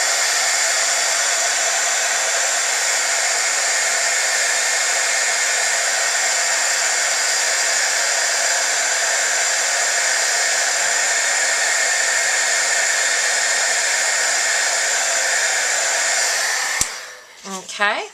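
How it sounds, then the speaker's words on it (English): A heat embossing gun heat-setting embossing powder on a card blows a loud, steady, close-up whooshing roar that runs unbroken for about seventeen seconds, then clicks off and falls away. "I'm going to take my heat embossing gun and we're going to go ahead and emboss this and heat set it."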